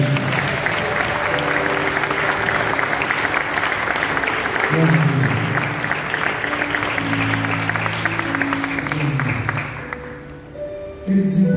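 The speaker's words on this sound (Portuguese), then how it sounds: "Aplauda o nome do Senhor Jesus." A church congregation claps throughout a thanksgiving service, dense sustained applause with voices and worship music under it, tapering off near the end.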